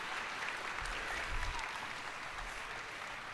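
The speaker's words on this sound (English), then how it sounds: "why don't you give her a huge round of applause" Awards ceremony audience applauding a presenter, a soft, distant, continuous patter of many hands clapping.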